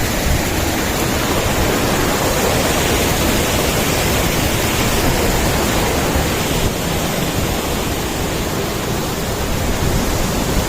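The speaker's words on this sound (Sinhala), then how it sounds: "මෙන්න හඳපාන් ඇල්ල." Hadapan Ella waterfall in the Sinharaja rainforest pours with a loud, unbroken roar of rushing water, dense and constant from start to finish with no other sounds standing out.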